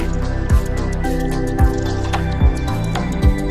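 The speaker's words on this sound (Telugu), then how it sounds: "వాటర్ ఫ్లోయింగ్ కానివ్వండి" Godavari river water sloshing and slapping against a ferry during a crossing, four soft rhythmic surges under a steady engine hum.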